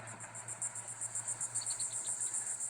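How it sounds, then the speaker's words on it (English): A steady, pulsing cicada chorus buzzes in rapid rhythmic bursts at a coastal marsh in Virginia, with a few sharper chirps joining partway through; no voices. "Cicadas sing at a pristine marsh on Virginia's coast, where Jim Deppy complains that abandoned bo"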